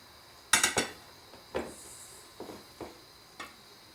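A plate and pot clatter while ravioli is lifted out to serve: a quick cluster of bright ceramic and metal clinks, then several softer, spaced knocks over about three seconds, close by in a quiet kitchen with no talking.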